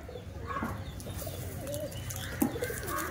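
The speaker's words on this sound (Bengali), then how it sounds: "এ দুটো টেডি কবুতর আছে।" Teddy pigeons at a pigeon sale give a few soft, low coos set against a steady low background hum, with a brief louder note near the end.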